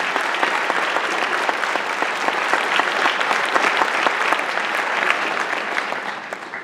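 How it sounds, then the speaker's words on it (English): A school theater audience applauds a senior showcase's technical director with steady, dense clapping that holds for several seconds and tapers slightly at the end. "how about a hand for our multi-talented, multi-faceted, incredible PAC manager and technical director, Mr. John Gino"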